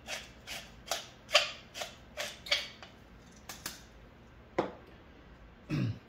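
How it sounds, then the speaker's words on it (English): A black pepper grinder is cranked by hand in a kitchen, about ten short gritty grinding bursts in a quick uneven rhythm, close and fairly quiet, followed by a couple of softer handling noises. "for the black pepper, not so much. I happen to like it, so let's put a few cranks in there"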